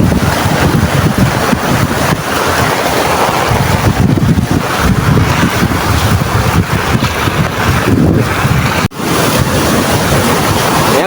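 A swollen river close to overflowing rushes past below a bridge with a powerful current, making a continuous, loud broadband roar with steady wind buffeting throughout.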